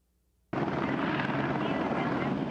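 A news helicopter over a police shooting scene at night cuts in abruptly after a brief silence, its rotor and engine then roaring steadily and close, with a dense, constant drone.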